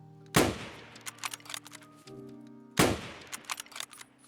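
Two loud Mosin rifle shots from Escape From Tarkov crack out about two and a half seconds apart, each trailing a short echo, with clacking bolt-action cycling between them.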